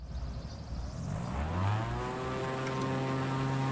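A propeller airplane engine throttles up for takeoff in PUBG, its drone rising steadily in pitch and loudness into a strong, sustained harmonic whine heard close, with no talk over it.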